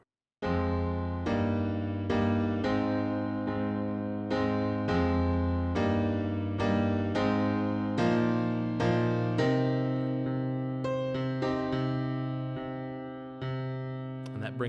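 Solo piano playing the pre-chorus of a song, a repeated chord pattern, each chord struck cleanly and held, moving in a steady rhythm for about fifteen seconds.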